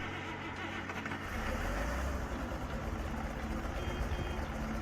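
Tractor engine from the Farming Simulator 22 game, heard as a steady, loud running drone with a low rumble that swells slightly after the first second and holds evenly.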